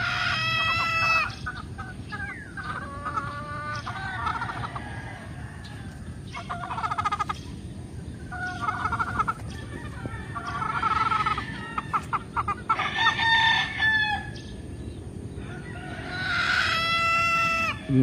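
On a large free-range poultry farm in the Philippines, chickens cluck steadily while roosters crow repeatedly in bursts across the scene, moderately close, with no talk over them.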